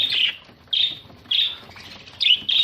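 Australian zebra finches give a run of sharp, nasal, toy-trumpet-like calls, about five quick bursts in under three seconds, close and loud with no voices.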